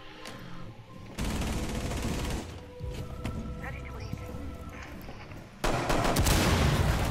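Loud bursts of automatic gunfire in the tactical shooter Rainbow Six crackle in long stretches, cutting off and resuming abruptly, with players talking beneath.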